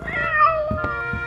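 A cartoon cat, Stick Cat, meows once in a short tonal call, then gives a brief sharper chirp near the end, close and fairly loud with nobody talking.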